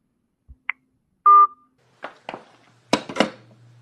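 A phone call being transferred to voicemail: a short run of clear electronic beeps and a steady held tone, followed by faint clicks and line noise, with no talking.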